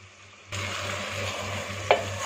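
Mutton with whole cloves, green cardamom and cinnamon starts frying in a pot, a sudden steady sizzle after a quiet moment, with one brief clink of a utensil near the end.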